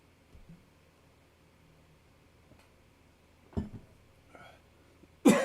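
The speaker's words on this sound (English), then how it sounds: "Told you I was gonna start coughing" A person coughs in a few short, rough bursts, with a sharp burst near the end, against a quiet room hum.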